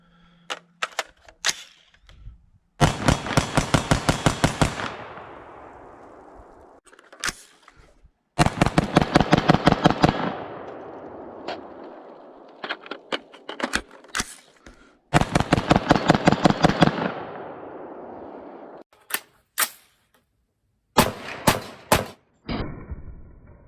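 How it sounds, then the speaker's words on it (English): Rapid strings of shots from a Daniel Defense M4 V7 Pro rifle fired outdoors, several loud fast volleys separated by pauses, plus scattered single cracks, sharp and close with ringing tails, no talking. "we're back inside from shooting the Daniel Defense V7 Pro"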